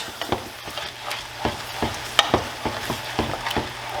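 A chickpea and bean mixture is stirred in a pan, with repeated scraping and clicking strokes of a utensil over a low sizzle, close and fairly regular, and no voices.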